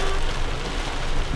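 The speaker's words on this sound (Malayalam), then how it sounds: "വല്ലപ്പോഴല്ലേ ഇങ്ങനെ മഴ കിട്ടുക" Heavy monsoon rain in Mumbai pours down as a steady, dense hiss that stays loud and even throughout, with no voices over it.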